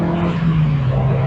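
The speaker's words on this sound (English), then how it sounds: "Engine's quite loud." A car engine revs steadily as the driver changes down a gear, a loud continuous droning hum with road and wind noise, heard from inside the car.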